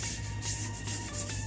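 Steady, close rubbing strokes of sandpaper working over a motorcycle fuel tank being prepped for paint, a continuous rhythmic scratchy hiss with no voices.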